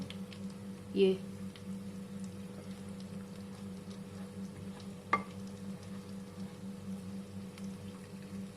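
Korean chicken pieces, the first batch, frying in hot oil give a steady low bubbling sizzle, with a couple of brief clatters breaking the constant hiss.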